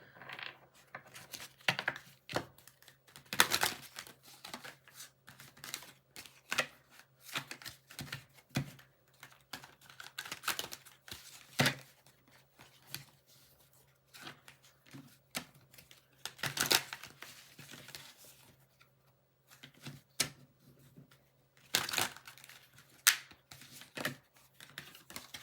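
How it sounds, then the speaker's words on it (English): Cards being shuffled and riffled during a spiritual card reading, a series of crisp, close bursts separated by quiet pauses, with no voices. "One more shuffle."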